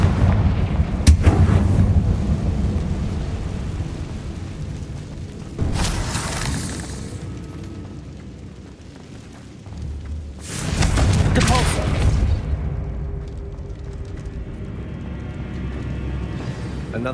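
Spell blasts in the Hogwarts Legacy video game, fiery Confringo and Bombarda explosions, loud booming bursts with crackling and shattering debris, a few seconds apart over a steady background rumble, with speech mixed in.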